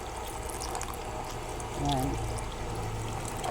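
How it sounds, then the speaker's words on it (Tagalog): Water left over from washing rice is poured into a cooking pot for sinigang with milkfish, a soft steady trickle that swells briefly midway. A voice speaks briefly over it. "Tapos, buhusan po natin ng tubig. Ito pong tubig na to ay galing to sa pinaghugasan bigas."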